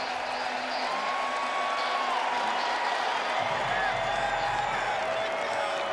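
A baseball stadium crowd of more than 48,000 at a 2023 NLDS playoff game between the Dodgers and Diamondbacks applauds and cheers in a steady, diffuse roar that fills the whole clip, with distant whoops rising above it.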